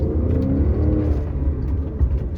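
A Porsche 957 Cayenne GTS with a six-speed manual gearbox pulls away from a first-gear start, its engine a loud, steady low rumble as it accelerates, heard from inside the car with no talking.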